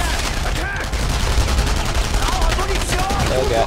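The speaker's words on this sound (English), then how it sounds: "I like ducking and shooting, guys. Like that." Rapid gunfire crackles in the World War II shooter game Enemy Front, dense repeated bursts of shots over a constant game background, with a voice faintly under it.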